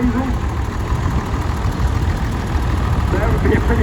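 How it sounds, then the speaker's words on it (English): A Case 500 six-cylinder diesel tractor idles at a vintage rally, a continuous low knocking rumble close by, with a voice speaking over it near the start and end. "Case 500, 6-cylinder diesel."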